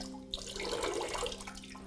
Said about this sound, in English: then I pour out the water.